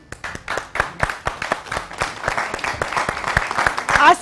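A studio audience on a Pakistani morning show bursts into dense, sustained applause, many hands clapping loudly and continuously, swelling toward the end with a voice briefly heard over it.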